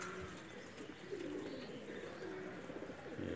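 Pet Teddy cross and Golden cross pigeons coo softly and repeatedly in a backyard loft, low murmuring calls overlapping against faint background noise.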